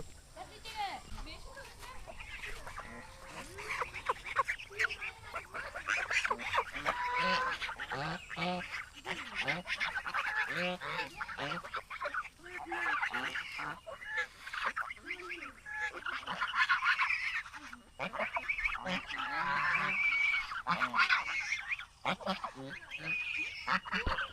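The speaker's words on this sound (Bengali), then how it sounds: "হাঁস বিশ্রাম নিচ্ছে, কত সুন্দর দৃশ্য" Ducks in a rural Naogaon village near a river give a steady, busy stream of quacks and calls that run on without a break, mid-distance and fairly lively throughout.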